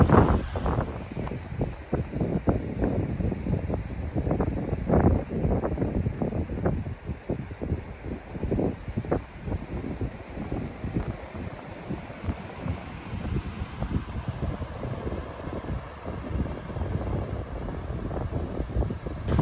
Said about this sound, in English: I hope the wind doesn't affect you too much